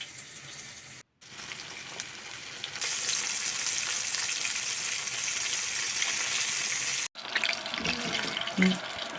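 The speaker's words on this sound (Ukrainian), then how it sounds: "Смажимо нашу рибку на невеликому вогні" Fish fillet and silver carp head frying in oil over low heat, a steady, fairly quiet hiss and crackle that swells partway through and runs almost continuously, with a few brief gaps and small clinks toward the end.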